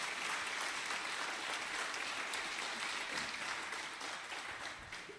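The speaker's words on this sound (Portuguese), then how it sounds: "Você pode aplaudir ao Senhor mais uma vez?" Church congregation applauding during a Sunday service, dense continuous clapping from the whole room held at a steady level, easing slightly at the end, with no voices over it.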